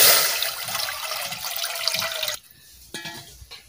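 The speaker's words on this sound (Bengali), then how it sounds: "ছোট্ট করে ডেকচি নিচ্ছি। সকালে খাবো, সকালের মতন অল্প করে রান্না করতেছি। জল দিয়ে দিচ্ছি।" Water pours steadily from a tap into a small cooking pot for a single-portion rice dish, a dense close rush that stops abruptly, followed by a few faint trickles and drips.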